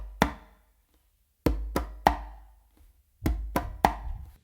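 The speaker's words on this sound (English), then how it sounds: "what you're going to do is a bass finger close slap" Conga strokes played by hand, a bass finger tone followed by close slaps, come in two crisp groups of three sharp hits separated by a pause, close and dry with no talking.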